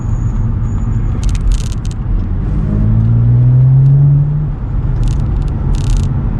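Stage 1 BMW 335i accelerating, a deep rising engine drone that climbs in pitch over a few seconds under steady road rumble and cabin rattle, loud and close from inside the car.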